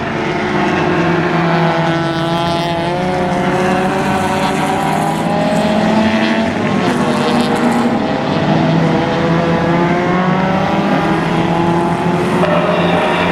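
Closed-wheel race cars lapping Mission Raceway, a dense continuous engine roar with rising and falling revs as several cars run together, loud and steady throughout with no talk.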